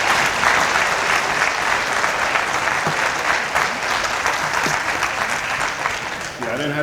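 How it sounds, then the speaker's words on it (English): An audience at a public address applauds a speaker, steady dense clapping throughout with some voices and cheers mixed in, easing slightly near the end. "Let's give Brother Habibullah Salim another round of applause."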